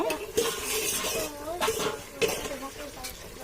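Metal spoon scraping and clinking against a pot while chicken curry is stirred, in several uneven strokes over a low simmering bubble, with a voice talking over it.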